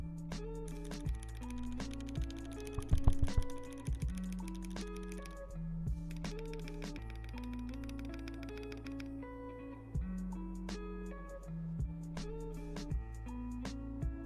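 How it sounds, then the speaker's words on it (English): A custom mechanical keyboard is typed on while held up near the mic, giving crisp, rapid key clicks in uneven bursts over steady background music. "could you hear the typing when I was doing that before? Like if I just hold this up near the mic."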